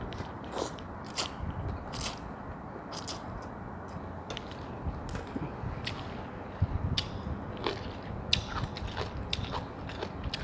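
Crunchy bites of som tam topped with crispy pork rinds and lead tree seeds, eaten with acacia shoots: repeated close, crackly chewing sounds in an irregular rhythm, with no talking.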